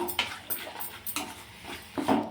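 A spoon scraping and clinking around a pan while chili powder is stirred into a tomato and peanut chutney, a few irregular metallic knocks and scrapes close by, with no talking.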